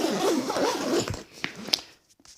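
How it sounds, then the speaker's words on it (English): A zipper is pulled shut on a scuba dive gear bag holding a BCD, a quick close ripping run that fades into a few small rustles and clicks at the end. "So I will close this back up, zip it up"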